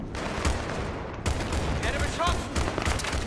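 Battlefield 3 gunfire crackles in dense, overlapping bursts, with bangs and rattling shots blending into a busy battlefield din that persists throughout.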